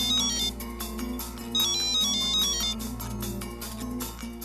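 A mobile phone ringtone plays while a call is being placed, a bright repeating electronic melody in short bursts, fairly clear and uninterrupted by speech.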